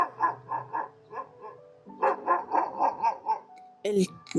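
Dogs bark in two rhythmic volleys of about six to seven sharp barks each, fairly close and moderately loud, ending with a brief, louder burst of sound.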